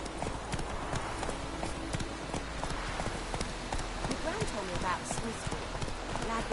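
Roach, the horse in the Witcher 3 video game, gallops in steady clip-clop hoofbeats on hard ground, loud and close, with a faint voice in the background.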